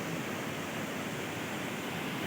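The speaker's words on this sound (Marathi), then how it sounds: "आणि मोठ्या प्रमाणात विसर्ग चालू आहे पाण्याचा" A constant, heavy roar of rushing water, a large volume released from a dam pouring through a canal, fills the air evenly with no pauses.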